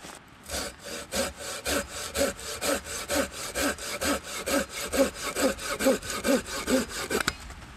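A hand saw cuts through wood about 8-9 cm thick during a hiking bivouac, giving steady rhythmic strokes, roughly two per second, close and fairly loud, with no voices.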